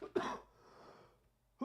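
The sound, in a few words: cough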